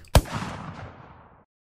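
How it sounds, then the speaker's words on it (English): A single sharp gunshot sound effect, the close-range variant set up in Unreal Engine, cracks loudly at once and then trails off in a rumbling echoing tail lasting about a second. "I've got three gunshot sounds."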